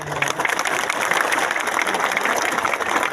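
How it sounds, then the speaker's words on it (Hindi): A crowd at a political meeting in Sabroom, Tripura breaks into steady, full applause that holds at a constant loud level throughout. "सब इनको भी एक बड़ा ताली दीजिए"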